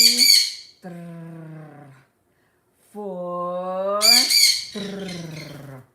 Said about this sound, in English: Oh, that's my bird.